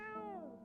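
In the horror game No I'm Not a Human, a cat gives one short, close meow that bends downward in pitch and fades, heard on its own without any voices.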